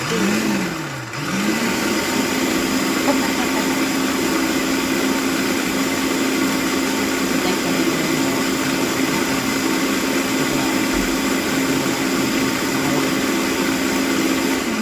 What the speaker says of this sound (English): I feel like this is a video on the food processor and what not to do.